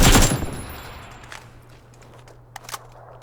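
Gunfire in PUBG on the desert Miramar map: a loud, rapid automatic burst opens, then decays into quiet ambience with a few faint, distant shots or impacts later on.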